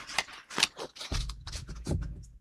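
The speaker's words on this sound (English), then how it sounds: "we'll set that aside and get our card shuffled" Cards are riffled and shuffled in a few quick crisp bursts, close up and fairly quiet.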